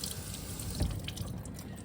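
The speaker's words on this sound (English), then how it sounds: "I'm just going to rinse this guy off." Tap water runs steadily over a sharpening stone being rinsed, a close continuous splashing hiss with a brief heavier splash partway through.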